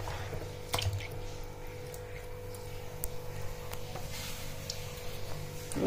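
Rice for chicken mandi is washed by hand in water, giving soft squishing and sloshing with a few sharp drips and clicks, close and fairly quiet.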